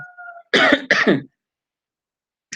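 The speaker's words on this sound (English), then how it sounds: "I'm getting this irritating cough" Two sharp coughs close to the microphone, one right after the other, following a faint tone.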